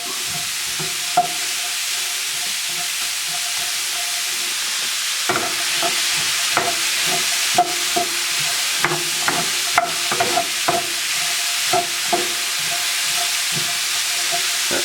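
Celery and onion softening in a pot for a crock pot bison bolognese, with a steady close sizzling hiss broken by scattered spoon scrapes and knocks against the pot. No one speaks.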